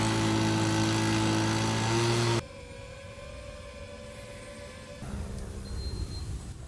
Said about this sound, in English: You'll first hear a leaf blower, then a typical hobby drone that weighs 1 pound, then their drone